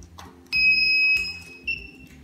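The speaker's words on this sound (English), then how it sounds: "it presses the limit switch and the light and the buzzer goes on" A shrill electronic buzzer on a homemade car parking system, triggered by a limit switch, sounds for under a second, a steady high beep, then briefly chirps again, over a faint background hum.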